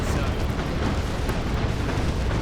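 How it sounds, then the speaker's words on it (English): A Manticore missile strike in Dawn of War 2 lands as a dense, continuous roar of explosive rumble, loud and broadband throughout with no clear separate blasts. "Manticore Strike is gonna be dodged completely."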